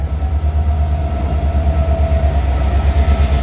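A loud, steady rumble of a moving train from inside a carriage departing Agartala, with a low rhythmic throb and faint rattling, no talking.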